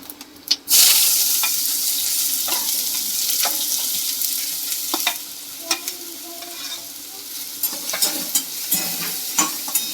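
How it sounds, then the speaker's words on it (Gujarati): Onions sauté in hot oil with whole cumin in a pan, giving a steady bright sizzle with scattered scraping and clinking from stirring, close up and without talk. "થોડીક વાર આપણે કાંદાને સાતળી લેવાના છે"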